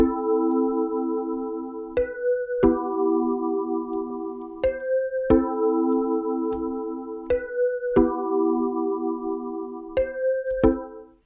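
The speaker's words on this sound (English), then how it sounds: "Caribbean E piano." Caribbean-style electric piano chords built in FL Studio play a looped progression of sustained, bell-like stabs, each chord changing roughly every couple of seconds, clear and alone without any voice.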